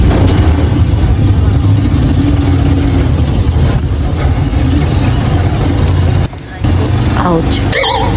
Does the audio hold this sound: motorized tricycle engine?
yes